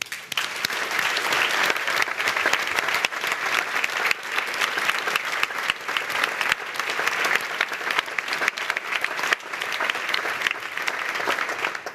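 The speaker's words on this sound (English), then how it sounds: "This deserves a very warm applause as well." Warm, sustained applause fills a large symposium hall, a dense crowd of hands clapping loudly and evenly for twelve seconds with sharp individual claps standing out, no voices rising above it.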